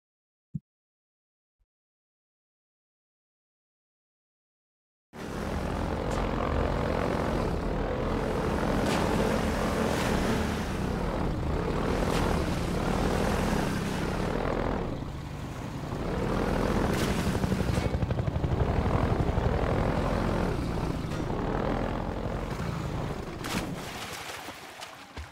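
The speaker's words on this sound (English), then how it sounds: "Helicopter is annoying." A helicopter in the Half-Life 2 video game roars continuously and loudly with a throbbing rotor drone after several seconds of near silence, swelling and easing slightly over about twenty seconds.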